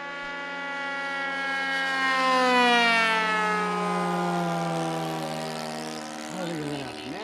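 Ultra Sport 60 model airplane engine at wide open throttle on poor fuel: a sustained buzzing drone that rises and falls slowly in pitch as the plane passes, loud then fading, with a brief voice near the end.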